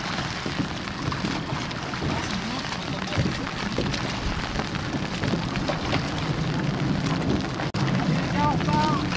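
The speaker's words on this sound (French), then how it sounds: "il pleut" Steady rain patters on a rowing boat out on the water for the whole stretch, mixed with gusty wind rumble on the microphone, while rowers talk faintly underneath.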